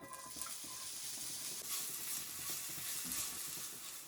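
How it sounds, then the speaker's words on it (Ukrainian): Onion frying in a pan for beef Wellington duxelles, a continuous hissing sizzle, steady and close, with faint stirring. "Для початку обсмажимо нашу цибульку"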